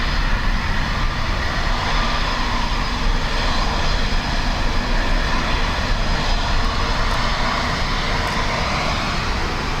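Ryanair airliner at Dublin Airport in windy, wet weather, its engines producing a steady, loud broadband roar that holds throughout with no talk over it.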